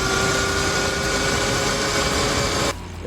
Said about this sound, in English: As you can actually hear, it is a pretty loud bike as for an electric bike